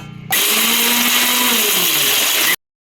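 A mixer grinder jar whirs loudly as it grinds roasted peanuts with powdered sugar, a steady high motor roar that starts abruptly after a brief lead-in and cuts off sharply.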